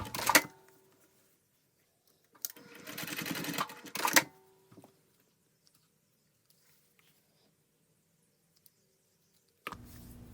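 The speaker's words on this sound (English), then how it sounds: "Sew along the short ends 5/8 of an inch from the raw edge." A sewing machine stitches along the short ends of a bag strap in a brief burst of whirring, framed by a few sharp clicks and handling sounds, with long quiet gaps between.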